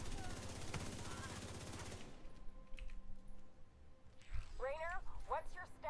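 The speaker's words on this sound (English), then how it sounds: "Why are you shooting me?" Gunfire in The Division 2 sounds as a rapid burst of close automatic shots lasting about two seconds. The burst then cuts off, giving way to quieter scattered sounds and a voice speaking.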